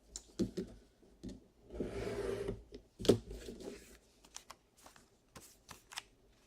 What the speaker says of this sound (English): So I'm just going to use my scissors and trim this up